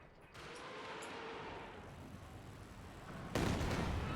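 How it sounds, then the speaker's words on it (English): Katyusha rocket artillery volley in a video game, a sustained rumbling barrage with a sharper loud blast near the end, fairly distant and with no talking. "first Katusha volley was huge"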